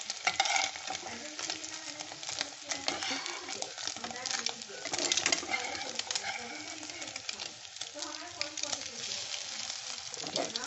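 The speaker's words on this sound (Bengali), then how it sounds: "ভালো করে ভেজে আমি তুলে নিচ্ছি" Eggs frying in a pan for a Bogura-style egg and potato ghati, a continuous sizzle with stirring clatter and a pigeon cooing faintly in the background.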